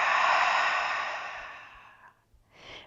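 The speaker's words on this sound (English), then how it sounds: "Open mouth, exhale." A long open-mouth cleansing exhale during a yin yoga session, one breathy sigh fading out over about two seconds, then a brief softer breath after a pause, close and alone.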